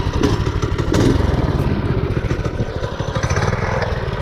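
Motorcycle engine running with a rapid, rattling pulse, fairly close and steady throughout, with no voices over it.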